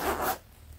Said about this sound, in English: They all do have a zipper.